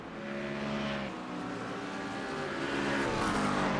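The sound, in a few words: race car engines from iRacing video game at Brands Hatch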